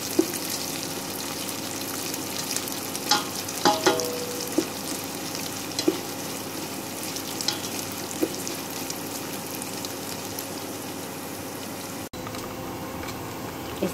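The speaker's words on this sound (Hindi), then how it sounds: "ब्राउन होने तक भूनेंगे, अच्छे से फ्राई करके" Kheer ingredients fry in a pan until golden brown, giving a steady soft sizzle with a few scattered clinks and scrapes of stirring; no one talks.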